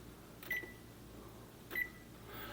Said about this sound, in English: Now I'm turning my oven on to 350.